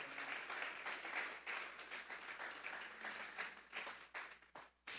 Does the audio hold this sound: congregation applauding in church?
yes